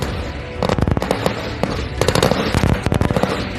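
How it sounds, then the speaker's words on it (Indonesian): A machine gun fires in several rapid bursts of sharp cracks, loud and close, separated by short pauses. "senjata yang mampu memuntahkan rentetan panjang tembakan yang menghujani musuh"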